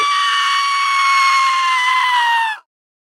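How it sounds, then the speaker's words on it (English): A goat from a video game lets out a single long, loud scream, a harsh sustained bleat that holds steady for about two and a half seconds and then cuts off abruptly into silence. "No, it's a goat and it screams."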